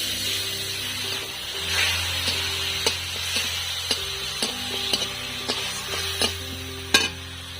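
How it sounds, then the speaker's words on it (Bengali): Mustard fish curry sizzling and bubbling in a pan after a splash of water, a steady frying hiss with scattered clicks and stirring knocks throughout, close and moderately loud. "এবার আমি দিয়ে দেবো একটু জল"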